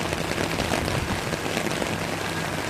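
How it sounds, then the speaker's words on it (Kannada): Constant, loud broadband rush of floodwater flowing fast after heavy rain, close and unbroken, with no voices. "ನೋಡಿ, ನೀರು ರಭಸವಾಗಿ ಹರಿಯುತ್ತಿದೆ, ಅತಿ ಹೆಚ್ಚು ವೇಗವಾಗಿ ಹರಿಯುತ್ತಿದೆ"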